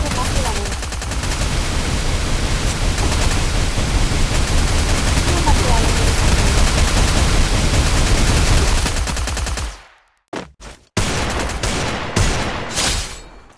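Rapid gunfire from a shooting video game, a loud, dense burst sustained for about ten seconds before cutting out abruptly, followed by a few brief sharper shots.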